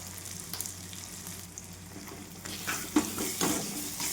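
Capsicum bell pepper sabzi with tomato, turmeric, coriander powder, red chili powder and garam masala sizzles in hot oil, a steady close fry with occasional scraping stirs that grow busier toward the end.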